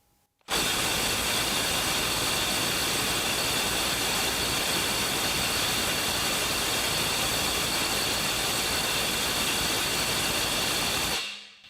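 Milwaukee M12 Stubby 6.0 impact wrench hammering on a tight bolt, one continuous loud, dense rattling burst lasting about eleven seconds from start to abrupt stop, close up with no talking.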